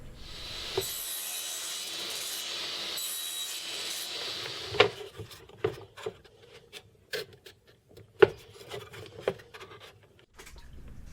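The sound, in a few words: hand cutting wooden shoehorn handles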